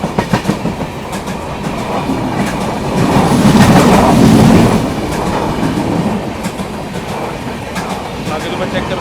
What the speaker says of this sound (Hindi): मांडोवी एक्सप्रेस जा रही है ये